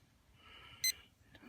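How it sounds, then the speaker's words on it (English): A wireless BBQ thermometer receiver sounds its low-temperature alarm while smoking briskets: a short, faint electronic beep, then a weaker second blip, over quiet background noise. "this bottom one is lower than 220, so the alarm's going off"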